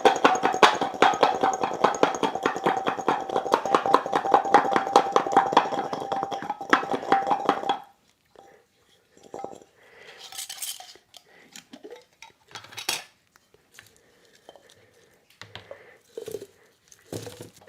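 Garlic cloves shaken hard inside a closed lidded jar, a rapid continuous rattle for about eight seconds, followed by scattered clinks and handling knocks of the container.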